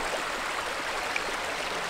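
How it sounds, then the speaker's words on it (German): A waterfall on a mountain hiking trail gives a soft, steady broadband rush of falling water, faint and constant. "Dahinter ist übrigens der Wasserfall."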